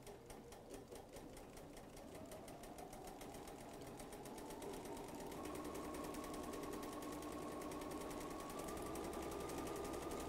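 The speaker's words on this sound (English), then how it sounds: "I stitch the next side until the machine stops, the needle goes into the fabric, and I pivot." Bernina sewing machine running a built-in taper stitch through fabric, a fast steady mechanical chatter of the needle that continues without a break and grows slightly louder partway through.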